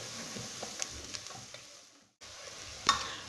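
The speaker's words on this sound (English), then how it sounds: "As you can see, the onions and the garlic are almost browning" Onions and garlic fry in a pan with a steady, low sizzle, broken by a brief silent gap and a few faint clinks of a stirring utensil; no voices are heard.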